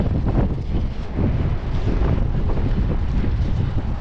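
Strong wind buffeting a microphone outdoors on a fishing trip, a loud continuous low roar and rumble with no pauses and no voices.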